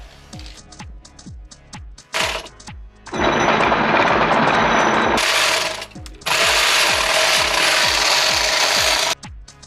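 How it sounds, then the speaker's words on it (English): A loud power drill grinds through brick in long sustained bursts, with short pauses and rapid hammering pulses between runs. "he's gonna go ahead and drill through the brick here"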